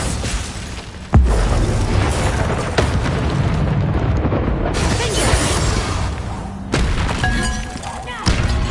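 A Bombarda explosion spell in Hogwarts Legacy opens with a heavy thumping blast, then a long roaring, crackling rumble with further impacts and shattering bursts, loud and close, with voices heard in the mix.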